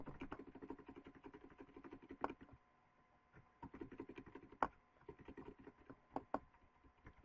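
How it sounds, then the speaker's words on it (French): Quiet typing on a laptop keyboard, a rapid uneven patter of soft key clicks with brief pauses and a few sharper taps, close and faint, with no talk. "J'essaie de faire le moins de bruit possible avec mon clavier."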